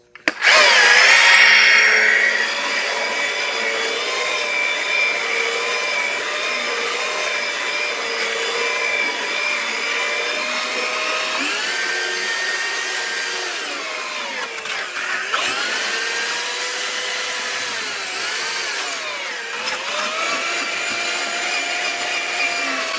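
Power drill fitted with a mixing paddle churns a concrete countertop mix in a bucket, a loud steady whine that runs continuously, with slight shifts in pitch as the load changes and no talking.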